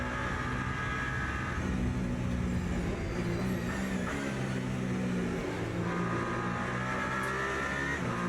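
Toyota hypercar engine in the Le Mans Ultimate racing game, a steady close engine drone whose pitch climbs in rising revs at a couple of points, with no talk over it.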